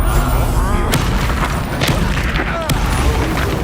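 Confringo fire spell blasting in the Hogwarts Legacy video game: repeated booming explosive impacts layered over dense combat sound effects and music, loud and continuous.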